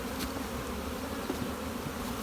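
Honeybees buzz in a dense, continuous drone while a hive is split, the swarm close by and steady throughout, with no voices.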